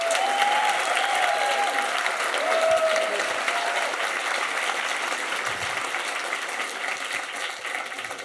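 A crowd at an evening climate talk gathering in Dublin applauds a speaker, a loud, sustained round of clapping that stays full for several seconds and slowly thins toward the end, with faint voices underneath.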